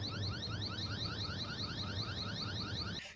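A eufy Security wall light's alarm sounds a rapid, repeating rising electronic whoop in quick cycles, steady and fairly loud, then stops abruptly.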